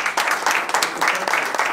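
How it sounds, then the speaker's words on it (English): An audience at a community conversation event claps in a steady, dense round of applause, many hands close and lively, continuous throughout. "Round of applause"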